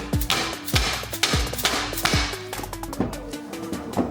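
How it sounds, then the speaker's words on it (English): Repeated heavy metallic hammer blows on a stuck alternator in an Audi TTS, about one every half second, ringing sharply, then lighter taps continuing with a resonant clang. "we had to get the hammer out"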